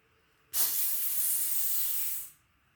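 Homemade cream soda ferment, two days old, releasing a sharp burst of fizzing hiss as the bottle is opened; the bright, steady rush starts abruptly, holds for nearly two seconds, then cuts off.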